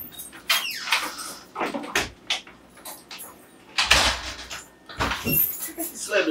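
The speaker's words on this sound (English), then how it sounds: "He slammed the door." A door slams with a sharp, heavy bang indoors, set among other knocks and thuds, with voices talking around it.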